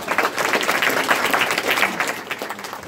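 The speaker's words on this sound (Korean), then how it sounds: "소개식 큰 환영에 박수 부탁드리고요" Welcoming applause for panelists at a food and drug safety forum in an international conference hall in Seoul, a mid-sized crowd clapping briskly and evenly, then easing off slightly toward the end.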